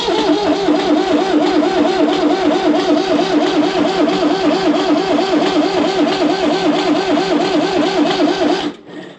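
A David Brown three-cylinder tractor diesel engine cranks over steadily while fuel system is bled, with a rapid, rhythmic pulsing chug, loud and close, running several seconds before cutting off abruptly.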